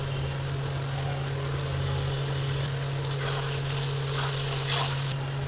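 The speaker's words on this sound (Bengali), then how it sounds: "লবণ আর একটু হলুদ দিয়ে আলুগুলোকে ভেজে নেব ভালোভাবে" Potato pieces frying in hot oil with salt and turmeric, a steady bright sizzle with a constant low hum underneath, rising slightly toward the end; no talking.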